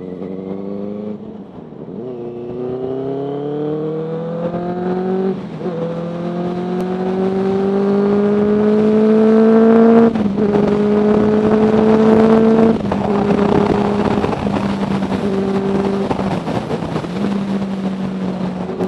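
A Benelli TNT 600i motorcycle's exhaust note, loud and close, its engine climbing through several rising revs with brief dips between gear changes, then holding a strong steady drone.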